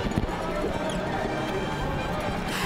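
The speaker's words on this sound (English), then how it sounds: "You guys just saw their beautiful horses." Horses of the Texas A&M mounted cavalry clopping along a parade route at a livestock show and rodeo parade, with steady hoof clatter amid loud crowd noise and voices throughout.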